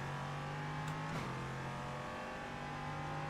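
LMP3 Ligier prototype race car engine in a sim racing game, a steady close droning hum with a brief rev swell near the middle, no talking.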